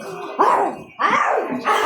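A dog barks three times in quick succession, each bark a drawn-out, howling yelp, close by with no other sounds.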